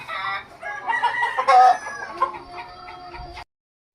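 A Roundhead Kelso F1 sweater broodcock crows nearby in one long, loud call with harmonic rises, followed by a few softer clucks before it cuts off.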